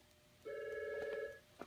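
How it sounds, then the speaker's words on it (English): A telephone rings once for an incoming call with a steady electronic tone lasting about a second, fairly near and alone, followed by a brief knock. "Ooh, do we have a phone? We have a phone call here?"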